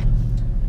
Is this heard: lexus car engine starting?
yes